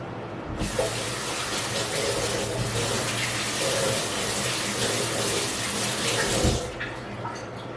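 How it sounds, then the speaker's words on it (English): Hands being washed under a running kitchen tap, with a loud, steady rush of water that starts abruptly, holds for about six seconds, then cuts off. "Wash my hands again."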